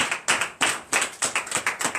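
A church congregation applauding during a morning prayer service in Benin, several loud bursts of clapping that come in an uneven, pulsing rhythm, close and without talk.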